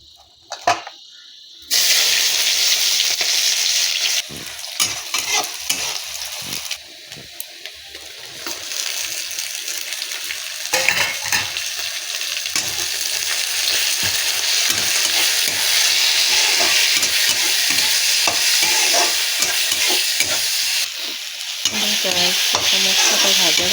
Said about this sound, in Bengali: মশলাটা ভাজা ভাজা হয়ে গেছে, এখন এটাকে ছেড়ে দেবো।